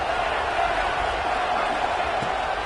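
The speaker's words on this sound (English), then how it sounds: "The crowd electric trying to help Tech on this third down." Stadium crowd at a Baylor vs Texas Tech college football game roaring steadily on a third down, a dense, continuous wash of cheering noise with no pauses.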